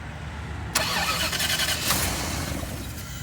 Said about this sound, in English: we're going to go ahead and start this car